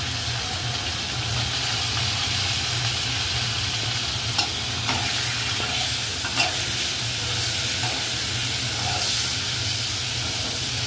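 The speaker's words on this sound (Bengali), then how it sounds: "এবার ধুয়ে রাখা ফুলকপিগুলো ভেজে নেওয়া হচ্ছে।" Washed cauliflower florets fry in a pan with a steady, close sizzle and hiss, broken by a few light clinks of stirring, over a low hum throughout.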